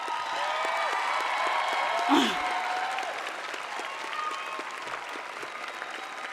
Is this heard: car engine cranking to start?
no